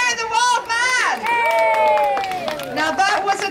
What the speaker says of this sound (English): Give him a cheer, the Wild Man.